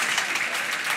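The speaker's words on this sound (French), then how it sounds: "Applaudissons cet homme." Audience applause at a talk on averting disaster, a dense steady wash of clapping that fills the whole moment without any voices on top.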